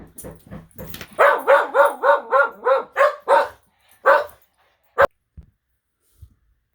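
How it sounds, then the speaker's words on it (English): Several dogs bark in a quick, loud burst of about ten yips close by at someone arriving at the door, then a few scattered single barks trail off into quiet. "Someone just came to my door, and my dogs love to bark."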